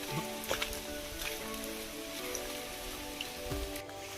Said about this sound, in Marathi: मध्ये पाऊस पडतोय पूर्ण सगळीकडे